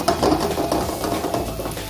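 Garlic frying in a pan for binagoongang okra, a loud close sizzle with scraping, clattering stirs of a utensil against the pan, busy at first and easing slightly.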